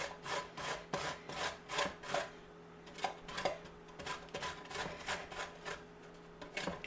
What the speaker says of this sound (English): I use the side that you use to grate cheese. Okay, and we're just going to grate this.